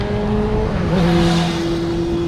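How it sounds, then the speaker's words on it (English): Road traffic with a steady, loud engine drone and a tonal whine that shifts pitch as a vehicle moves past close by, continuous throughout. "Traffic."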